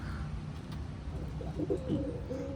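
Domestic house pigeons in a loft coo softly and briefly near the end of a short stretch of low background rumble, quiet and close.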